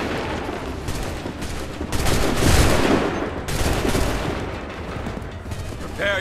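Musket volleys in Assassin's Creed III swell into dense, booming gunfire that rolls on continuously amid battle noise, with faint shouting beneath.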